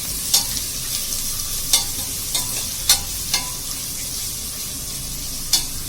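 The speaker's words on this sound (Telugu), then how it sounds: "గోల్డెన్ ఫ్రై చేసుకోవాలి." Mutton frying in a pan with a steady close sizzle underneath, broken by a few sharp scraping clinks as it is stirred at irregular intervals, no voices.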